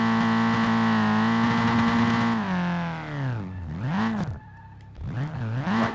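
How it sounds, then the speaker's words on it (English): A Nissan S13 in the driving game SLRR revs hard with a loud, near engine whine that drops, then wavers up and down with tire squeals as the car is thrown into a drift. "Right, so the car is very shit at drifting."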